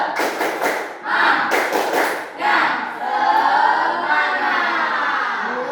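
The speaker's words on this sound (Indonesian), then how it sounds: "kita lakukan tepuk semangat" A classroom of students standing up to do a rhythmic group clap, a cheer-clap routine. The bursts come in short clusters, loud and close, and end in a sustained ringing tone.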